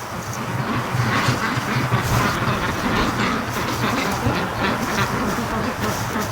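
Ducks, including Muscovies, quack in a steady, busy chorus around kiddie pools beside a frozen lake on a winter morning, with no talk over the dense, continuous noise.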